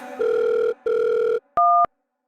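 A phone call ringing over speakerphone: two long, loud ringback tones with a short gap between them, then a brief higher-pitched beep. There is no talking.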